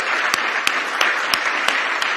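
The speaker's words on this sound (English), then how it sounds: "Looks over to Miss Opal Lee and starts clapping." Audience applause at a Juneteenth celebration, dense steady clapping from many hands throughout, with a few sharper individual claps standing out at regular intervals.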